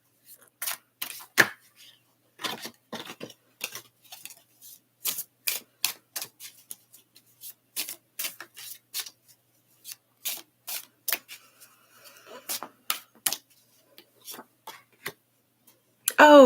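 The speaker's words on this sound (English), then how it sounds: "Let me get my cards together here" Tarot cards being gathered and shuffled by hand, a quick series of sharp, dry card snaps and flicks in irregular bursts, close and clear against near silence.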